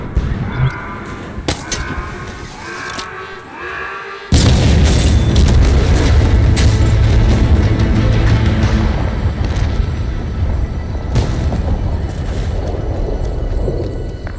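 A gun generator explodes in the video game Halo Infinite: brief effects and clicks give way to a sudden loud boom, followed by a long, dense rumbling roar of blasts and debris that slowly tapers.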